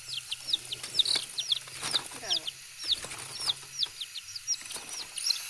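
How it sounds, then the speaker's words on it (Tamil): Three shop-bought chicks chirp in a home courtyard, a steady run of high, thin peeps repeating throughout, with quieter background clucking and household noise underneath. "இந்த 3 கோழி குஞ்சு கடையில் வாங்கினது."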